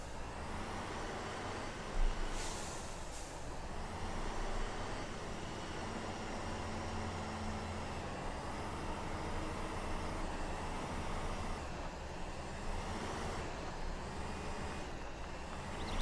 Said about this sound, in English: like this really unique sort of whining sound of the turbine. Like the cooling turbine.